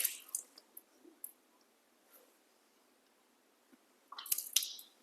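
Water is scooped into the hand during wudu ablution: a wet splash and drips at the start, a quiet pause, then a louder splashing burst of water near the end.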